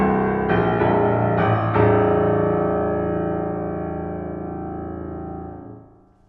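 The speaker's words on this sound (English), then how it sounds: "Not just mechanically, but also sonically, the richness, the bass on this piano." A Mason & Hamlin BB 7-foot grand piano sounds rich bass tones: a few deep notes and chords struck in quick succession, then one big sustained chord ringing and slowly decaying until it is damped, close and full with no talking.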